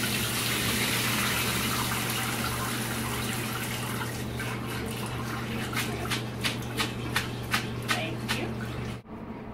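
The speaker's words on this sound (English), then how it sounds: "So you just strain it into a colander." Cold pasta and water poured into a colander, a steady gushing rush close by that fades into dripping and a few soft knocks, with someone talking faintly.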